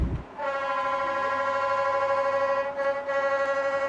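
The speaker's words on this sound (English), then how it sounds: "Apparently our train is leaving." A train on Mount Washington sounds a long, steady horn, loud and sustained for several seconds, with a brief dip near the end before the tone resumes.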